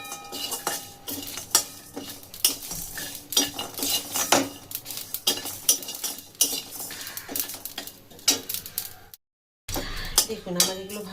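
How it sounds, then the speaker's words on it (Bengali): Cumin, panch phoron, a dried chilli and bori are dry-roasted in a dry kadai, with a metal spoon scraping and clinking in an uneven rhythm and a short silent gap near the end. "এগুলোকে আমি ভেজে নেব শুকনো কড়াইয়ে।"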